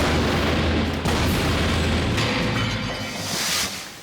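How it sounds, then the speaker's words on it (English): A loud, sustained rumbling explosion on an island challenge course, with a broad roar that swells and fades over several seconds, like a big blast or artillery boom. "when you hear an explosion, you will have 3 seconds to launch your spears"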